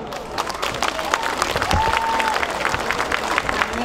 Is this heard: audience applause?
yes